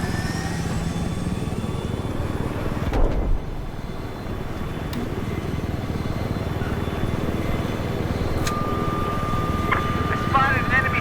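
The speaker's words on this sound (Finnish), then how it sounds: "I spotted an enemy helicopter." An enemy helicopter in a military video game gives off a steady, fairly loud rotor and engine drone that runs the whole time, with voices talking over it.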